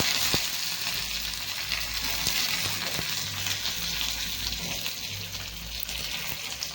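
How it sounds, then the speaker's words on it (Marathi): Mustard seeds, garlic and fresh curry leaves sizzling in hot oil for a chutney tempering, a steady loud frying hiss with faint scattered pops throughout. "तेल गरम झालेलं आहे आपलं आता टाकून घेणार आहे आपण मोहरी आणि छान असा लसूण टाकायचा आहे"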